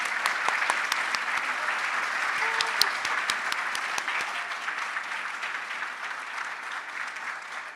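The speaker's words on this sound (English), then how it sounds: "Can we just give a round of applause?" Audience applause at the Peace Builder Awards, a steady room-filling clapping from many hands that holds evenly and slowly fades toward the end.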